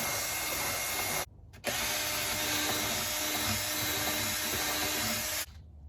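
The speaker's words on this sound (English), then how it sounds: "I'm going to drill it now and see." Power drill boring holes into the body of a VW T4 van, a loud steady whirring drone running almost the whole time with one short pause near the start, then cutting off.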